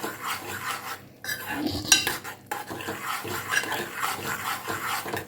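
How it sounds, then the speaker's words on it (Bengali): Small sweets are stirred in sugar syrup in a pan, producing irregular clinks and scrapes of a utensil against metal, up close, with a soft wet background and no speech. "এই যে নাড়ছি, নাড়তে নাড়তেই রসটা টেনে নিয়েছে"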